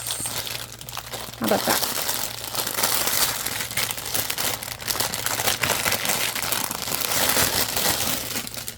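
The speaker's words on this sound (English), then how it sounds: "Oh, I hate the sound of rustling plastic." Plastic rustles and crinkles almost nonstop during a resin craft session making bottle stoppers, close and fairly loud, with a brief spoken remark near the start.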